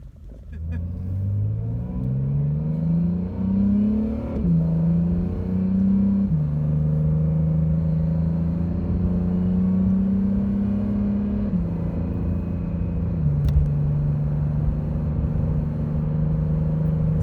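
Supercars, a Mercedes-AMG GT C, Aston Martin DB11 Volante and Acura NSX, revving up through the gears, then settling into a steady hum while cruising, loud and close, with no talking.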